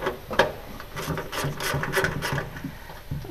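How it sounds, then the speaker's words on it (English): A bracket being loosened on the fuel pressure regulator of a Spec Miata, with soft rubbing, scraping and ratcheting mechanical noises close by at a low, steady level. "I'm just loosening up this bracket because I want to get that bracket back on there."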